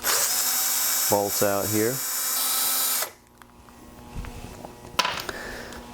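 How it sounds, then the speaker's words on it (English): A cordless drill whirs steadily for a few seconds removing bolts from a 43cc Earthquake auger, with brief speech over it, then cuts off into quieter clicks and handling noises. "I'm just going to use my battery drill to take the 4"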